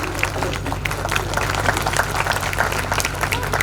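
An audience claps for teachers at a school annual function, a dense, steady burst of applause over a low hum from the venue's sound system, with no talking.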